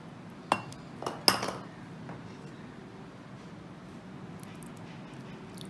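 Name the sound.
gently stirring cut jellies into strawberry ice cream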